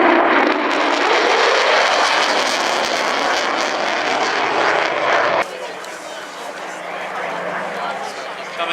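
A vintage propeller aircraft roars past during a rolling manoeuvre at an air show, loud and close for about five seconds before dropping to a quieter, more distant drone, with a commentator talking over it.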